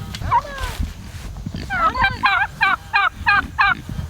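Backyard turkeys being herded into a coop give a rapid series of warbling gobbles and calls close by, about seven pulses in quick rhythm, while a person urges them on.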